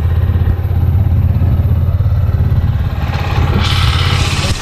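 A newly delivered motorcycle, a super bike fresh from the showroom, idles with a loud, close, steady low rumble and mechanical clatter, the tone shifting slightly near the end.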